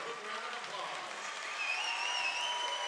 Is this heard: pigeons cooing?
no